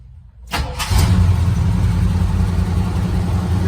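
A truck engine with a Motorcraft carburetor, 47,000 original miles, cranks briefly then catches and settles into a steady, loud, close idle that runs on alone with no talk.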